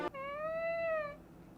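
A domestic cat gives a single drawn-out meow, close and clear, rising slightly and then fading, with no other sound around it.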